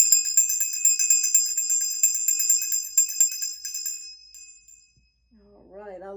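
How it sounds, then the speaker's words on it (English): Old inherited bells rung in a continuous shimmering jingle for about four seconds, then a long ringing decay fading to silence before a voice begins to speak. "Actually, these bells are from my grandparents. They're pretty old, and the energy and the resonance that comes from it, I just absolutely love."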